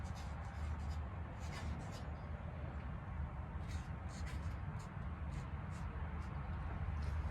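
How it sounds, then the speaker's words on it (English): A pen scratches and rubs on a small plant label for succulents, faint close scribbling strokes in short bursts over a low steady background hum. "So we're just going to write on here."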